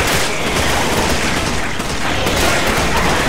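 Gunfire in Resident Evil 5 co-op play: a loud, dense barrage of rapid shots and booms running throughout, continuous with no talk over it.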